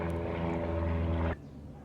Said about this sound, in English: there's a loud plane